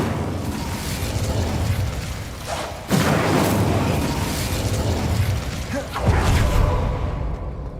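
An Incendio fire spell cast in Hogwarts Legacy erupts in two loud whooshing blasts a few seconds apart, each swelling over a constant rumbling game ambience.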